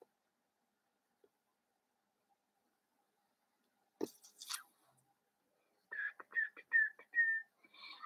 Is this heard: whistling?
yes